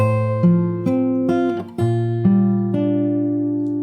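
Fingerstyle guitar plays a chord-based passage from the Animal Crossing New Horizons theme, with plucked notes and chord changes ringing clearly at a steady pace, no talking.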